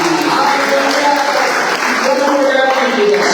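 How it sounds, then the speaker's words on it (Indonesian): Church congregation applauding together, a dense, steady clapping that fills the whole stretch at close range. "Tepuk tangan buat diri sendiri."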